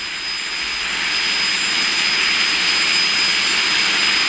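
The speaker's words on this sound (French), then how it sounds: "l'appareil peut décoller immédiatement après l'allumage des statoréacteurs" Ramjet-powered rotor aircraft starting up, its tip-jet engines giving a loud, steady roaring hiss with a high whine that holds throughout, close and continuous.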